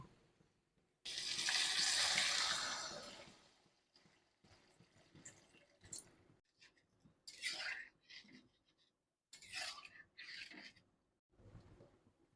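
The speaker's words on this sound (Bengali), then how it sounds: "এবারে আমি জল দিয়ে দেবো" Water pours from a vessel into a potato and egg curry cooking in a pan, a brief splash and rush at the start followed by softer intermittent trickles and clinks, heard close with faint background sound.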